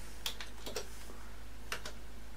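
Numbers are typed into a browser address bar on a computer keyboard as a sparse, quiet run of light clicking keystrokes, a handful of taps in two loose clusters over steady background hiss.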